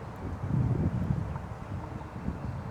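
Gusty wind buffets a microphone outdoors during roadside work on a Toyota Corolla XRS, a steady low rumble that surges and eases throughout with no clear talk over it.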